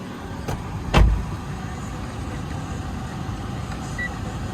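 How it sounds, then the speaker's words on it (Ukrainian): A 2011 Mitsubishi Lancer's car door shuts with a single close thud over a steady low idle hum, followed by a faint lighter click before the engine drone continues alone. "Зараз двері закрию."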